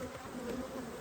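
Honey bees buzz steadily at a beehive during a summer colony inspection, a soft continuous droning hum with no voices.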